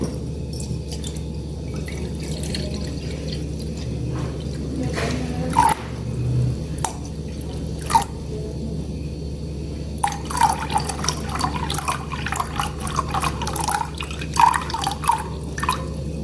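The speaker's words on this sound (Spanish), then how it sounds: "Y verteremos nuestra agua fría." Cold water poured into a cup during a thermodynamics experiment, heard as splashing and trickling over steady background hum, with the pouring picking up into busier drips toward the end.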